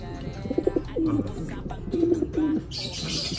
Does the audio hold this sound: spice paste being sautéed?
no